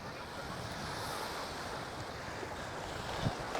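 Ocean surf and a steady breeze at Waikiki beach make a continuous broadband wash of breaking waves and wind buffeting the microphone, holding at an even level throughout without any voices.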